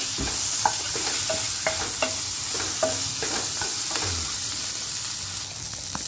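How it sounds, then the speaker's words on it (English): Diced tomatoes and chilies frying in a pan for restaurant-style sambar, a loud continuous close sizzle with a series of spoon-scraping stirs against the pan, no one speaking. "So దీన్ని ఒక 2 minutes fry చేద్దాం."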